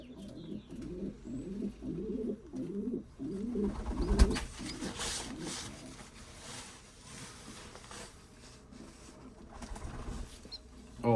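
Pigeons coo in a series of soft, rhythmic, low throaty calls during banding after a snowstorm, heard close up with some handling noise and a brief thump partway through.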